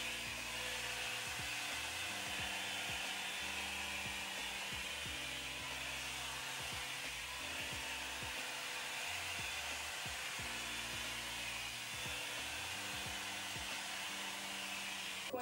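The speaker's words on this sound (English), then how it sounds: "I'm gonna blow dry the top, the bottom, and then I'm just going to take it in this type of motion" A Revlon blow dry brush runs steadily while drying hair, a constant loud airy whoosh throughout with faint background music beneath it.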